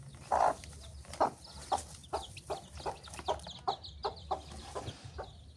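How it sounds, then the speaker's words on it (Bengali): A chicken clucks close by in a regular series of about a dozen short, loud clucks, one every half second or so, over a low steady background with no talking. "মুরগি ছেড়ে দিলাম"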